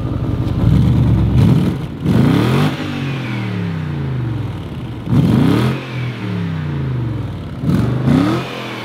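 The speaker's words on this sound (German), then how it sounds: "ich habe gerade neutral drin, ich gebe am Stand jetzt ein bisschen Gas" A BMW E38 735i revs in neutral while standing still, its engine rising and falling in four or five short throttle blips over a steady idle, close and loud.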